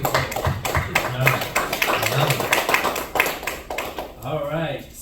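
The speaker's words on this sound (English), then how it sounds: "Let's give a round of applause for Nicole." An audience at a financial empowerment seminar claps for a speaker; scattered hand claps sound close by, mixed with talking and voices that continue over the clapping.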